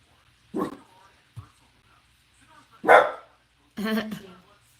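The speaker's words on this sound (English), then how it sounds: "There's a dog barking after that." A dog barks in three separate bursts, a short yip between them, fairly close with quiet gaps in between.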